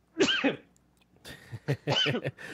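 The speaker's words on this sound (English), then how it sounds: "Oh God, I'm gonna sneeze." A close, sharp sneeze bursts out, then a short pause, followed by more breathy vocal bursts and a second similar explosive sneeze.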